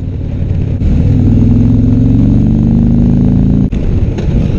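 A Harley-Davidson Road Glide motorcycle rides slowly along a San Diego road, its engine a loud, steady low rumble with rising harmonic tones as it pulls, briefly dipping before settling back.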